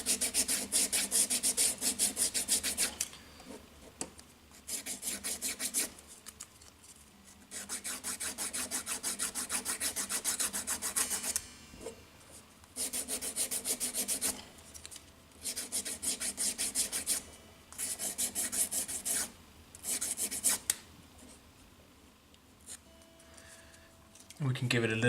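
A guitar nut on a Tradition G10 Strat polished with 1000 grit sandpaper, giving long close rubbing bursts in several separate runs with short pauses between them, as someone speaks quietly in the gaps.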